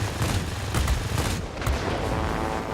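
Rapid aircraft cannon fire from a P-39N-1 fighter in the World of Warplanes combat game, a dense, continuous rattling burst of shots layered over steady engine roar, loud and close, with no talking.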